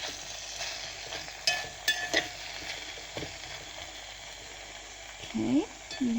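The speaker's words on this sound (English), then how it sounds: "I'm just going to stir that all around" Food frying in a pot on a stove is stirred, with a steady sizzle under scattered clinks and scrapes of a utensil against the pot, plus a brief voice near the end.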